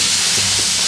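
Stock poured into a hot pan holding red chilies and garlic hisses and sizzles steadily, a loud, close, broadband spray of steam noise lasting under a second with no talk.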